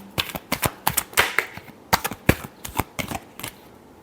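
Tarot cards are shuffled in quick, crisp bursts of flicking and riffling, a dozen or so sharp papery clatters in uneven rhythm, close and alone.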